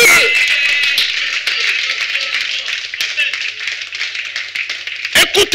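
A church congregation applauds during a Friday worship service, dense continuous clapping filling the room with cheers and voices mixed in, then a few louder, sharper claps near the end.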